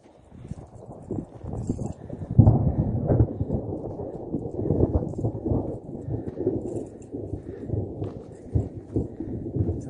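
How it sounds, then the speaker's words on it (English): Deep, rolling rumbles of distant thunder on Ajusco volcano, Mexico, swell and fade continuously, a low heavy roar with occasional louder surges. "Thunder. Been hearing that for about the last 30 minutes. Getting closer, I think."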